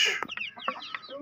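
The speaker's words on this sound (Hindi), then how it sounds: "वो कुड़क पे आई पड़ी है वो मुर्गी सामने" A broody hen on a village farm in Pakistan gives a run of short, close clucks in an uneven rhythm, with no other sounds and no voices.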